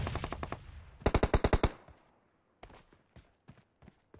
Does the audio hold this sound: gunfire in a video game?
yes